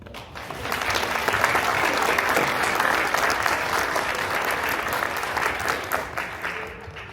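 An audience at a school honor society induction ceremony gives a sustained round of applause for new members, dense clapping rising quickly and holding steady and full for several seconds before easing slightly.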